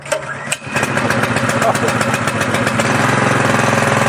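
A Harbor Freight 20-ton log splitter's small gas engine, choke on, catches after a brief pull-start sputter and settles into a steady, loud, close-up running drone.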